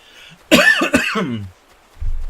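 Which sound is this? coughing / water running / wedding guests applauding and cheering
coughing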